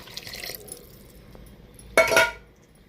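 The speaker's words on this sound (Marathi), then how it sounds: "आपण पाणी घालून घेऊ आता ह्यात।" Water is poured into a cooking pot of rice with tomato and spices, a short splashing gush after a few faint clinks.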